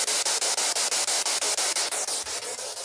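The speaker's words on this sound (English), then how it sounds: "Now each sweep is a ch sound you hear." A spirit box radio sweeps through stations, giving a loud, harsh hiss of static broken into quick, even pulses about five times a second, with a brief low thump near the end.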